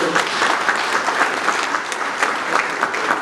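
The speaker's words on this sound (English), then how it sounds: "Can you please give them a round of applause?" A conference audience gives sustained applause for the event organizers, a dense, steady wash of many hands clapping close and loud, with no speech on top.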